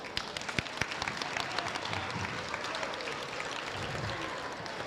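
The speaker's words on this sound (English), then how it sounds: "I think we owe them all and yourselves all a big round of applause." Scattered, fairly faint clapping from a crowd at a high school volleyball match in a gym, a few sharp claps early then a low, diffuse patter with some murmur.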